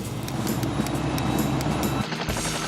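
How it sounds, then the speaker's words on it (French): Cartoon rescue helicopter from Fireman Sam, its steady rotor drone and low throbbing engine filling the air continuously at close range, with a brief change in tone near the end. "Je suis dans l'hélicoptère, où es-tu?"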